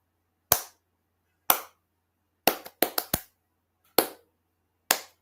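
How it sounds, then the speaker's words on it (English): Slow, deliberate hand claps, seven sharp slaps spaced unevenly with a quicker cluster of three in the middle, close and crisp in an otherwise quiet room. "Slow clap."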